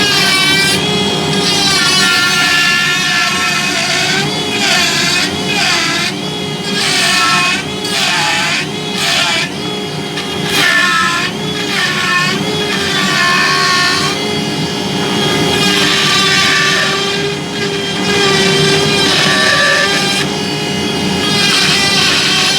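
A Dremel rotary tool run at full throttle while carving wood gives a loud, continuous high-pitched whine whose pitch keeps rising and dipping as the speed and cutting load change, with no talking.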